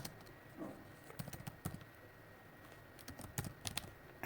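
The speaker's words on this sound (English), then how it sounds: "typing the GitHub address of that particular template." Keys clack on a computer keyboard in short irregular bursts, quiet and close, separated by brief pauses.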